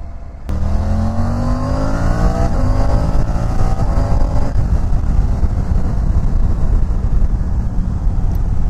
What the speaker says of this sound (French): Ce quick shifter est impressionnant.